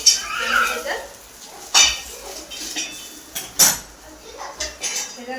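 A metal tava griddle used for roasting green chillies is lifted off the stove with a few sharp clanks and scrapes of metal on metal, spaced out over soft kitchen background noise.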